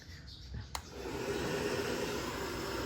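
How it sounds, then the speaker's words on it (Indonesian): Hair dryer blowing onto a temperature and humidity sensor: after a brief click it starts up into a steady, even airflow hiss that runs on at moderate level, close by, with no talk. "Kita pakai hair dryer lagi."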